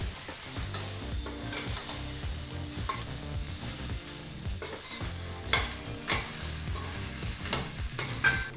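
Okra (bhindi) fries in oil in a pan over a medium flame, giving a continuous close sizzle. Repeated scraping and knocking of a spatula stirring the pieces sits on top, and no one speaks.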